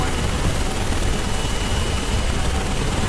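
A helicopter in Carrier Command 2 riding down a carrier elevator, giving off a dense, loud, steady rotor and engine roar that fills the whole stretch with broadband noise.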